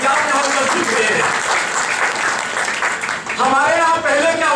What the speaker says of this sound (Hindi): आप लोगों के लिए मैं चाहता हूं कि आप खुद एक बार दो जोरदार तालियों से अपना स्वागत करें